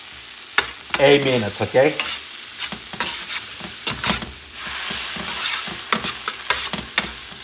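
Spanish sofrito sizzles steadily in a pan for seafood rice while a spoon stirs it in repeated scraping strokes, close and fairly loud, with a brief spoken phrase over the frying.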